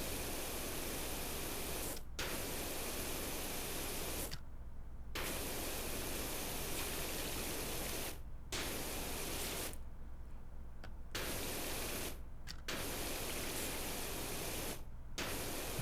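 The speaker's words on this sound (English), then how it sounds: "don't spray any water on anything else" A pressure washer's water spray hisses steadily in PowerWash Simulator. It comes in long continuous bursts, broken by several brief silent gaps where the trigger is released.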